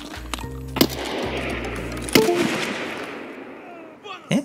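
Sharp gunshots crack out from nearby in the video game Escape from Tarkov, a few sharp bursts cutting through a steady low mechanical hum, then fading into quiet with a faint click.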